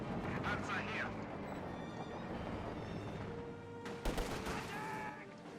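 Gunfire and bombardment from Company of Heroes 2 battle Grenadiers, a dense rumble of shots and blasts with a sharp burst of impacts near the end, heard under an excited voice talking.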